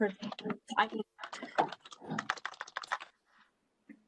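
Quick bursts of computer keyboard typing, close by, clattering in uneven runs during an OPEC+ press conference, with a voice talking over them before the keys trail off.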